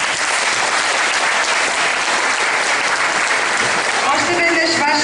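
Audience applause following a children's vocal group at a Bulgarian concert: dense, steady clapping from a large crowd, loud and continuous throughout.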